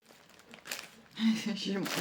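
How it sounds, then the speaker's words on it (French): Crinkling paper rustles in short bursts, close by, with a person's voice murmuring softly alongside. "désolée pour le bruit du papier"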